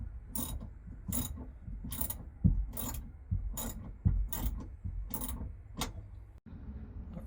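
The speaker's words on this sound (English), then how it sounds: "we got it tightened up as much as we can for now" A ratchet cranks a nut down onto a stainless light bar bracket on a Jeanneau 795 boat, sealed with butyl tape, a flat washer and a lock washer, giving repeated close, crisp clicking strokes in a steady rhythm with no talking.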